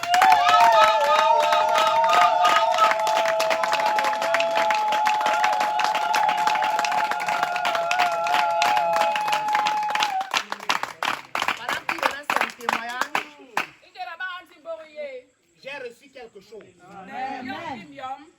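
A church audience applauds and cheers loudly and steadily for several seconds, with voices mixed into the clapping, before it fades out and a preacher's speech takes over.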